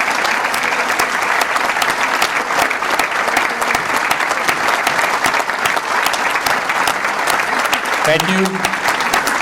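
Burbank Police Department's sworn officers receive a loud, sustained round of applause from a crowd at an awards luncheon, dense clapping throughout, with a brief spoken thanks near the end.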